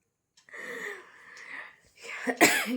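Close, wheezy breathing sounds from a person with a bad cold build into a sharp cough near the end, raspy and throaty.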